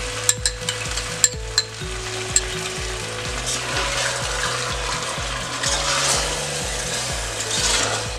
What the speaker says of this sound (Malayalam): ഇനി ഇതാ തൈര് ഒഴിച്ചു കൊടുക്കാം.